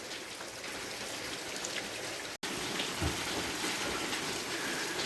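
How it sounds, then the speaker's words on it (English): Heavy rain pours down steadily during outdoor ladder and cable repair work, a dense continuous hiss of drops with one brief dropout midway and no talking. "Pouring down rain and not even missing a lick."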